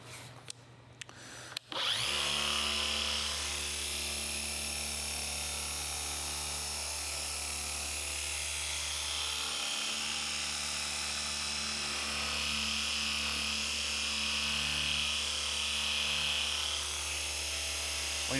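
Machine polisher working on the paint of a BMW G80 M3, starting after a brief clatter into a steady loud motor whine and hum that holds for the rest of the clip with slight load changes.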